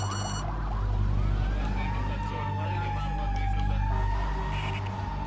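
A police car siren in Mumbai during the 2008 terror attacks, a wailing tone rising and falling at mid distance over low engine rumble and background noise.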